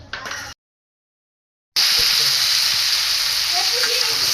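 Potatoes and taro sizzle steadily in hot oil in a pan as a Bengali curry fries, a loud continuous hiss that starts after a short silence and carries faint stirring.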